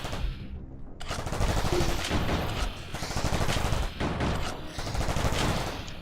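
Automatic turrets fire in the video game Vortica, delivering steady rapid bursts of gunfire that keep going for several seconds after a short quiet start, loud and dense with no voices over them.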